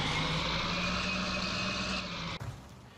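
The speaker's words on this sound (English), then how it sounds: "this tractor's noisy." Tractor engine in the Farm Simulator video game, a steady droning hum with a whiny tonal layer that cuts off abruptly near the end, leaving a quieter rumble.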